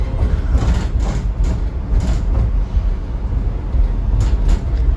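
Steady low rumble of a moving 2021 Chevrolet cargo van with loose rattling and clattering inside throughout, no talking.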